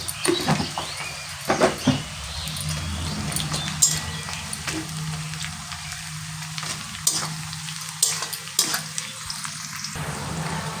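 Onions, with a little sugar, fry in a pan for katla fish kaliya. There is a steady close sizzle with intermittent scraping stirs and clinks throughout.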